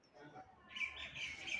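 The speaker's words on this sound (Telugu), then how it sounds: "మా ఇంటి దగ్గర ఇలా పక్షులు అరుస్తూనే ఉంటాయండి ఎప్పుడూను." Birds chirp faintly near a house, a short cluster of high tweets rising out of quiet background hum.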